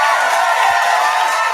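Brief burst of crowd cheering and clapping at a live podcast beat battle, loud and dense, a sustained wash of voices and hands with no gaps.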